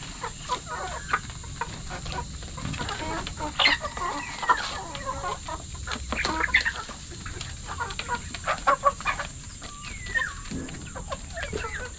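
A flock of hens with a few roosters clucks steadily while feeding near a keeper, short chirps and clucks overlapping at close range over faint outdoor background, no talking.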